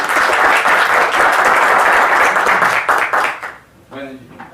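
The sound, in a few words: applause from an audience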